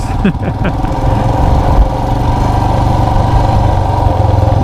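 Motorcycle engine running steadily during a ride, a continuous loud drone with a low rumble, while a rider wearing a Scorpion EXO R420 helmet with a gold visor speaks briefly early on.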